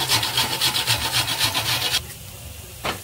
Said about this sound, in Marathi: 1 वाटी खोबरं आपण किसून घेऊया